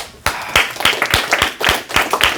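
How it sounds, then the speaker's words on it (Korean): A class claps hands together at the end of an earth science lesson: sharp, distinct claps in a loose, uneven rhythm, close and fairly loud, with no speech. "박수 한번 칩시다."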